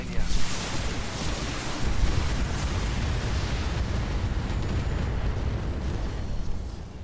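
Heavy weapons fire and explosions from battling mechs in the Battletech video game, a dense rumbling barrage of booms and bursts with a sharp blast at the start and another near two seconds, rolling on continuously.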